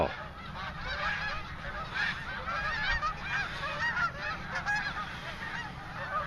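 A flock of Canada geese flies over during an April snowstorm, honking continuously in overlapping calls under a low rumbling background, fairly close.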